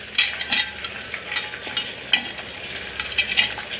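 Cooled tomatoes go into a pot for tomato rasam, giving a light sizzle and a few soft clinks and stirring scrapes over a steady frying hiss, close and fairly quiet.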